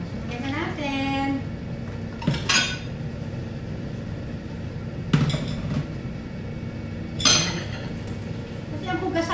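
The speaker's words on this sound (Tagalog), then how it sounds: "Tapos hugasan natin ulit yung iba pang matitira." Dishes are washed in a home kitchen while chicken curry cooks, with several sharp clinks and knocks of crockery and utensils scattered among running talk.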